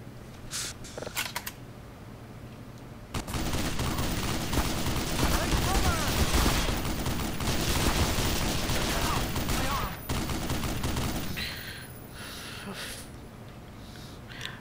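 Sustained gunfire from the video game Black Mesa, dense and loud for about seven seconds, with a few sharp shots before it and fainter bursts trailing after.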